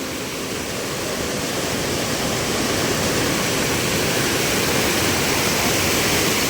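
Floodwater after heavy monsoon rain in a Konkan village surges through a drain, a powerful, continuous roar of rushing water, loud and steady throughout, like a torrent surging through a channel.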